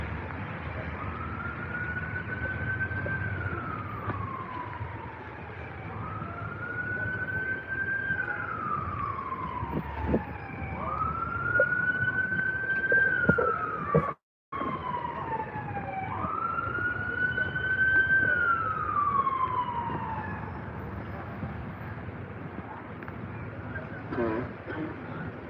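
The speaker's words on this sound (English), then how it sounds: "There's your sirens in the background." Police or ambulance sirens wail in repeated rising and falling sweeps on a Jersey City street during an active shooter response, moderately distant over steady traffic and crowd noise.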